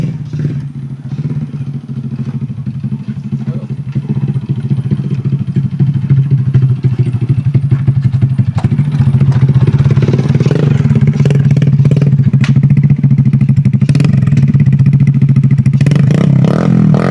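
A Honda CRF motorcycle engine runs close by, a loud continuous throb that builds toward stronger revving near the end. Faint clatter sits on top.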